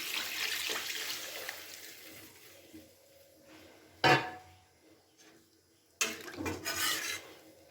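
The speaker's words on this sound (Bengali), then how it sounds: "এবার আমি পরিমাণ মতো জল দিয়ে দিচ্ছি" Water poured into a pan of Bengali banana-flower dhoka curry (mochar dhokar dalna), with short splashy bursts of pouring separated by quieter gaps, near and moderately loud.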